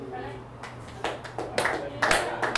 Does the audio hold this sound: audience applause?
yes